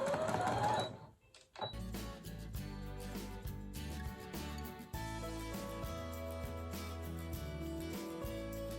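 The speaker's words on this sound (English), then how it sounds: "now we are sewing up our third side" A sewing machine stitches along the side of a red truck quilt panel with a steady, rapid mechanical whir after a brief pause near the start, heard fairly close and alone.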